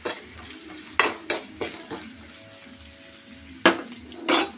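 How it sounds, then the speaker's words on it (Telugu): Turmeric, ginger and garlic paste frying in a pan for an egg gravy curry, a steady sizzle with sharp scrapes and clanks of a spoon stirring against the metal at irregular intervals, close and fairly loud. "పసుపు, అల్లం వెల్లుల్లి వేసి ఫ్రై చేయాలి."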